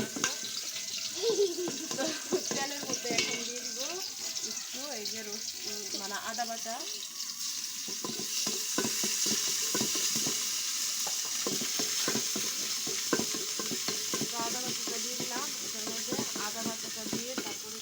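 Pulao rice being stirred in a pot over a village clay stove, with scraping and soft bubbling throughout, mixed with faint sizzling and background voices speaking near the start.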